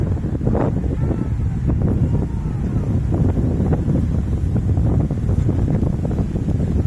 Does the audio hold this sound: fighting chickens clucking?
no